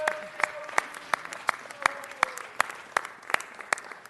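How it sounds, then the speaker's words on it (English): Audience applause in a city council chamber, a sparse run of individual claps spread across the room at a steady moderate pace, fairly close and not loud, with a faint tonal sound in the background. "Let's give Gary a round of applause."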